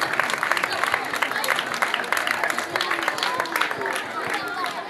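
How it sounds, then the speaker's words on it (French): Audience applause for teachers at a school ceremony, a steady stretch of clapping mixed with crowd hubbub and scattered voices throughout. "je voudrais une salve d'applaudissements à l'endroit de tous ces enseignants"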